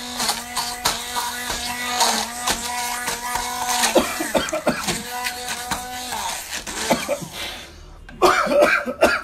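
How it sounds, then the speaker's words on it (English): A few rough coughs and throat clearing, provoked by green chilli, break out near the end, following a stretch of whirring hand blender buzz. "it's making me cough"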